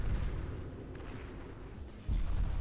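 Torpedo explosions in the real-time strategy game Beyond All Reason, heard as low, muffled rumbling blasts at moderate distance, with a heavier boom near the end, under a steady battle din.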